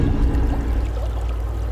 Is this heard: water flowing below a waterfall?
yes